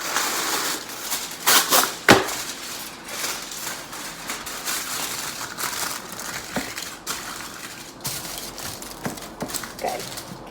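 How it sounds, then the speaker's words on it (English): Aluminum foil crinkles and crumples continuously as it is pressed into a pan to line it outdoors for campfire cooking, with sharper crackling bursts in the first seconds and a busy rustle throughout. "So I'm gonna first start by aligning my pan with foil"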